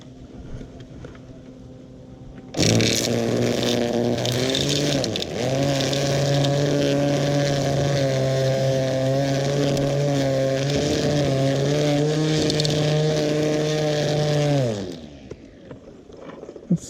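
A Greenworks 13-inch 40V cordless string trimmer cutting Kurapia ground cover, spinning up sharply into a loud, steady whine for about twelve seconds, dipping in pitch as line bites into plants, then winding down.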